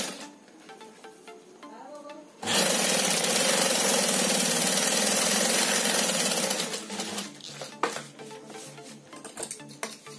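A sewing machine stitching a cloth shoulder bag with a zip, a loud continuous mechanical whirr running for about four seconds, preceded by quiet handling and followed by clattering and clicking of fabric and parts.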